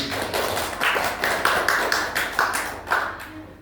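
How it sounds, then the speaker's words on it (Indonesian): Classroom audience applauding a role-play group, a burst of claps with rhythmic peaks that fades toward the end, moderately near with no talk over it. "Beri tepuk tangan untuk tadi."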